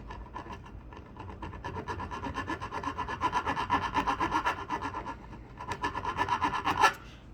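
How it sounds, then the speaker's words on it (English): A metal file rasps rhythmically back and forth against a guitar fret, cutting a bevel in short, close strokes, steady and fairly quiet, with no talking. "you'll hear when it cuts"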